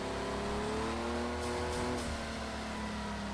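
Porsche engine in a racing video game, a steady droning note with rising and falling harmonics held at even volume throughout, with no voices.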